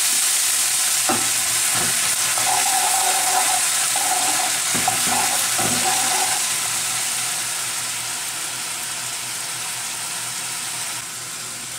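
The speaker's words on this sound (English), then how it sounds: "We want to burn out the alcohol, so we're going to cook this for about 1 minute" Sake simmering and sizzling in a pan as the alcohol cooks off, a steady hiss with a few stirring scrapes and clinks early on, easing slightly toward the end, no voices.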